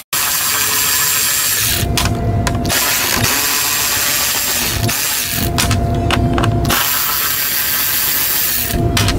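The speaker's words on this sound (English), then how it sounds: "Remove the 3 8mm bolts that are holding the top of the airbox in." A power tool whirs in repeated loud bursts as it spins out the 8mm bolts holding the top of the stock airbox on a Dodge Charger or Challenger Hellcat, with short pauses between each run.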